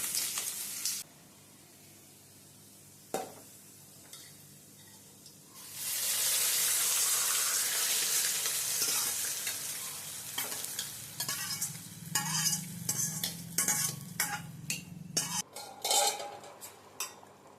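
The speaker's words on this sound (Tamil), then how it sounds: "நம்ம சோம்பு, வெங்காயம், கருவேப்பிலை எல்லாம் நல்லா பொரியல்." Fennel seeds, chopped onion and curry leaves fry in hot oil as a tempering for village-style mutton kulambu, a loud steady sizzle that starts after a few seconds, with spoon stirring and metal clinks against the pan and no talk.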